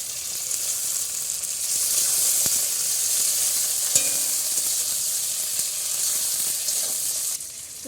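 A paste of chopped tomato, ginger and cumin fries in a pan with spices for a jackfruit and paneer dish. It gives a steady, close sizzle with faint stirring scrapes, and the sizzle softens near the end.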